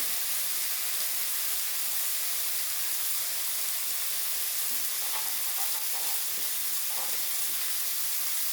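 Spices with chilli powder and turmeric fry in a pan for a rohu fish curry, a dense, steady hiss and sizzle close by, with a few faint clinks partway through.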